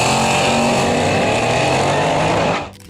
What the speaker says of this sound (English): The 1967 Chevrolet Camaro SS